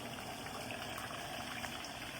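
Boiling water pours steadily onto a stone mortar's surface with a soft, continuous rushing and bubbling hiss, fairly quiet and even throughout.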